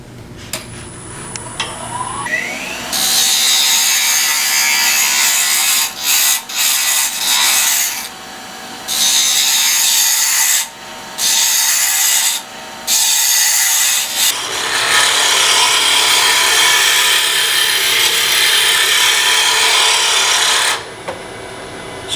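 A lathe tool cuts into spinning wood while turning a tool handle, a loud, close scraping rasp that runs in long stretches broken by short pauses as the cut lifts, with no talking.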